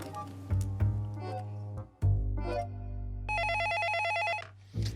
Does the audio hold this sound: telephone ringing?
yes